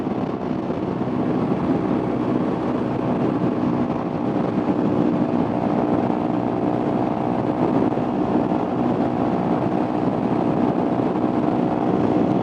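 Steady, loud highway roar from a 2016 Kawasaki Ninja 300 motorcycle at speed, its high engine note buried in dense wind rush throughout, continuous and close with no talk.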